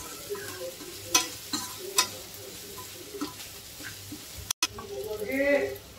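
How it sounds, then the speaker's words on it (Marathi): Sev upma with turmeric and salt stirred in a frying pan, a light scraping and soft sizzle with a few sharper clicks of the spoon against the pan, with brief speech toward the end. "आता याला 2 मिनिटं हलवून घेऊया चांगलं।"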